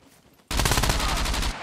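A sudden loud burst of rapid automatic gunfire in the PvP team deathmatch survival game Scum, close and dense for about a second before cutting off.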